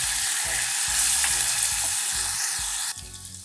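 Tomato paste and a spoonful of tomato purée fry in a pan for stuffed onions, giving a loud continuous sizzle over a regular low thumping pulse from stirring, and no voices.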